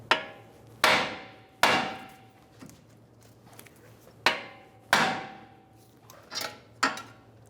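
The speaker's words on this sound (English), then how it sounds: "Use a hammer, hit the side of right here, and we'll release the tension" Sharp metallic hammer blows strike the tie rod of a 2007-2011 Toyota Camry front suspension, about eight ringing hits in irregular pairs and singles, close and clear with quiet pauses between them.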